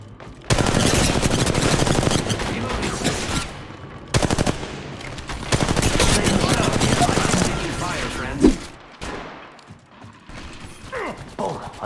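Gunfire from Apex Legends Mobile as dense automatic bursts, loud and nearly continuous across most of the clip with brief gaps. Mechanical clicks are mixed in, and a voice talks over the shooting.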